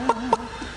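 A performer in a comedy parody act imitates a hen with his voice, giving two short clucks followed by softer clucking sounds.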